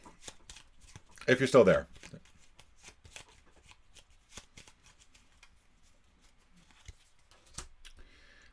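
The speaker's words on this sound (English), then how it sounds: "Let's give this one more quick shuffle here." Quick riffle shuffle of a deck of Elder Sign board game cards, one short crisp burst near the start, followed by scattered soft card handling and a person talking.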